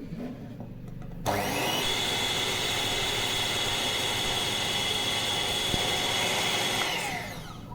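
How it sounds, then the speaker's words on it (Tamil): A blender whirs steadily while mixing a Multani mitti soap mixture, starting abruptly after a quiet moment and running loud and constant before easing off at the end. "திருப்பி பிளெண்டர் பண்ணும் ஒரு இருபது இருபத்தஞ்சி நிமிஷத்துக்கு பிளெண்டர் பண்ணும்"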